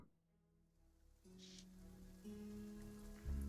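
Rain falls steadily in the video game Sovereign Syndicate, set outside a manor in London, a soft, constant patter under low ambient music tones that grow slightly louder, with no talking.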